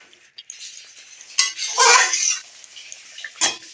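A utensil stirs eggs in an uncovered pan with potatoes for a Bengali egg dish. Sharp metallic clinks and scraping bursts come close by in an irregular rhythm, with quiet gaps between them.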